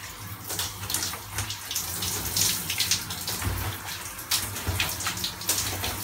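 Water runs steadily from a tap, wetting hair before a donkey-milk shampoo is applied, a continuous close splashing hiss with slight fluctuations and no talk.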